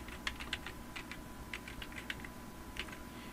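A laptop keyboard from 2012 is used to type a password at a login screen, with quick, light, fairly faint key taps in short uneven bursts over a steady low hum.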